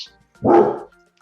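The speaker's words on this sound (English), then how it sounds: "I'm sorry my dog is barking right now" A single loud, close dog bark, one short burst in an otherwise quiet indoor setting.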